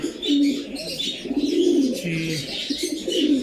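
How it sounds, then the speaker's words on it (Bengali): Pigeons of fancy breeds coo at a pigeon farm in soft, repeated throaty calls close by, overlapping one another with a few faint chirps. "খুব ভালো জাতের এক জোড়া কবুতর"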